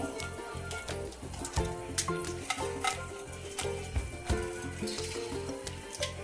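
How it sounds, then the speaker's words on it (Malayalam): Fenugreek or mustard seeds splutter in hot sunflower oil, sharp scattered pops and crackles over a soft sizzle, with a steady musical backing underneath. "കടുക് പൊട്ടി വരട്ടെ, അല്ലെങ്കിൽ ഉലുവ പൊട്ടി വരട്ടെ."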